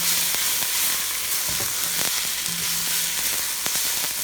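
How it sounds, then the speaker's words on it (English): Onions caramelize in a pan with a constant, loud, close sizzle that never lets up, and a few faint taps of stirring sit under it. "keep stirring your onion next to you"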